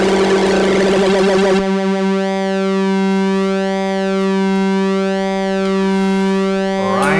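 Gotharman Tuul synthesizer in all-pass filter mode, playing a sustained buzzy tone whose bright harmonics sweep and swirl in slow undulating waves after a harsher, noisier opening, loud and close with no voice.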